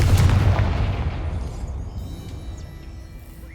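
A Confringo spell explosion in the video game Hogwarts Legacy, a single loud booming blast that rolls off into a fading rumble.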